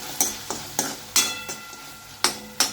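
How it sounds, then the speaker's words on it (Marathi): Ginger-garlic paste sautéed in a pan for a dry prawn masala, with a soft steady sizzle and a spoon scraping and stirring in quick, evenly spaced strokes, close and fairly quiet, no talk. "1 मिनिट 30 सेकंड असं आलं लसूणची पेस्ट व्यवस्थित परतून घेऊया."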